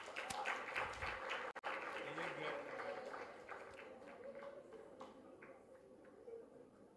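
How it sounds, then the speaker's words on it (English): Audience applause at a high-school educational seminar, a dense patter of many hands clapping that fills the room, with a brief dropout early on, then gradually thinning and fading. "A round of applause for her."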